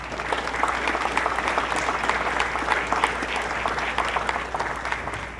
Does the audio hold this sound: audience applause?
yes